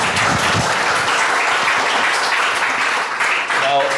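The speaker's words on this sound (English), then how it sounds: "let's give Ms. Amin a round of applause" A school audience at a primary school quiz gives a round of applause for a teacher, loud dense clapping throughout with a little voice mixed in near the end.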